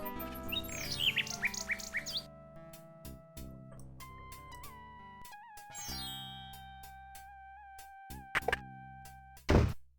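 A nightingale sings in King's Quest 6 on the Isle of the Sacred Mountain, with bright chirps and warbling tones over game music, then a loud squawk at the end.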